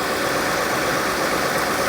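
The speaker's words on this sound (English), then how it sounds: "This is what the Coyote is supposed to sound like." A 2016 Ford F-150 pickup with the Coyote V8 idles, a loud, steady, even engine drone with no gaps or talk.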